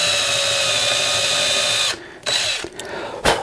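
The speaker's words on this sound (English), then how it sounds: "I'm just drilling basically a small pilot hole to so that I can start the screw." A power drill whirs steadily while boring a small pilot hole into the body of an Eart CP-1 guitar, then stops abruptly, followed by a few short bursts and a final brief spin, all close and loud.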